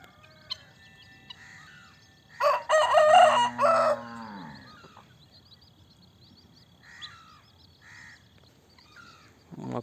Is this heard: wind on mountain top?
no